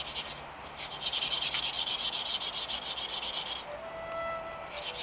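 A steel brush scrubs surface rust off a pitted bonsai tool in rapid, rhythmic strokes, close and harsh, with a brief pause before the scrubbing resumes.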